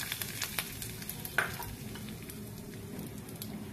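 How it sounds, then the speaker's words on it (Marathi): Hot tempering oil crackles and sizzles as it hits fermented horse gram uthappam batter, with a sharp splash near the start of the pour, then steady frying hiss. "आणि आता ही फोडणी या मिश्रणावर घालूया."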